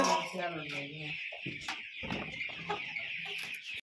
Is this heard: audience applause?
no